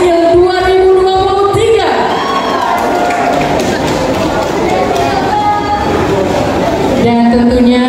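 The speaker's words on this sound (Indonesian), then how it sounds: "Dan berikan sekali lagi aplaus yang sangat luar biasa kepada Puka Luka Aceh Singkil" An audience at a tourism ambassador crowning night in Aceh Singkil, 2023, breaks into sustained applause and cheering, a dense loud wash between stretches of amplified music and a host's voice.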